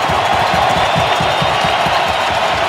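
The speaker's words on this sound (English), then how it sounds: "Sellout crowd" A sellout crowd fills the Honda Center during the closing seconds of an NHL playoff game between the Edmonton Oilers and Anaheim Ducks, producing a steady, loud roar of cheering with no clear break.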